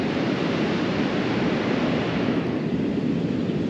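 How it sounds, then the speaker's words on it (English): Pacific Ocean waves on the California coast make a loud, steady roar of surf, continuous and broad with a gusty, wind-like wash throughout and no voices. "we're finishing it off with a fantastic view of the Pacific Ocean here in"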